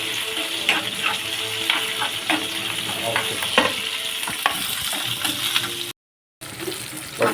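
Green chilies fry in a pan over a low flame with a steady close sizzle broken by stirring scrapes and clinks, cut by a brief gap of silence near the end and no talk.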